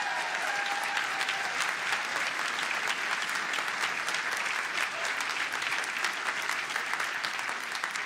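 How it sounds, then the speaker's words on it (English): Sustained crowd applause for veterans at a Donald Trump political rally in Concord, a dense, steady wash of clapping holding evenly throughout with no pause. "Let's give them a big round of applause today."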